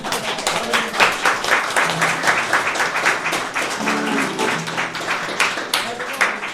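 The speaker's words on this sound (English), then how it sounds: "I'm gonna give Brian a clap because he does so much work" Audience clapping at an old-time fiddlers gathering, a moderate crowd applauding with distinct individual claps and slightly uneven rhythm, while voices talk briefly over it.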